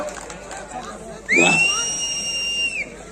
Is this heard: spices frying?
no